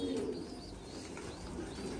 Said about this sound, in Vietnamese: chim bồ câu bố mẹ rất là to